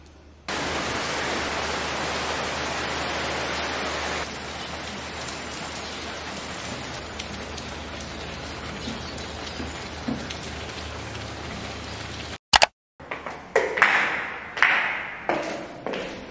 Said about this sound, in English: Yeah, I can hear it, it's raining.